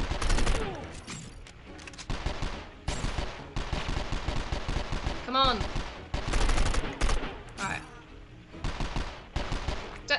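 Heavy gunfire in the action game 24: The Game, with rapid bursts and volleys of shots cutting in and out over about ten seconds, mixed with a brief spoken line and other game effects.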